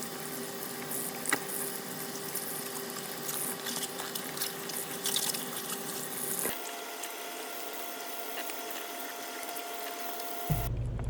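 Water running from a kitchen tap into a sink while collard greens are rinsed, a steady rushing stream that changes pitch midway and cuts off near the end, no voices.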